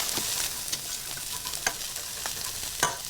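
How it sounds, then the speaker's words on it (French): Scallops searing in a hot pan give off a steady broadband sizzle with occasional sharper pops and stirring scrapes, continuous and close, with no voices. "On va bien faire colorer les Saint-Jacques."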